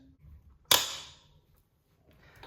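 A single sharp metallic snap as a tight factory axle nut on a 2021 Honda CRF125FB breaks loose, its ring fading over about half a second, followed by faint low rumbling.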